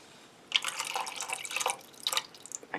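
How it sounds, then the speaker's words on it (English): Water poured from a tap into a cooking dish for Filipino adobo, heard up close as a soft, uneven trickle and splash that starts after a brief quiet and continues with small drips and gurgles, with no talking. "we're going to add some water until it's the proper height."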